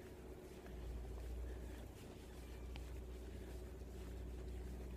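Commercial fishing boat passing in fog at the docks of Auke Bay, a faint low engine rumble droning steadily at a distance, mixed with soft wind noise.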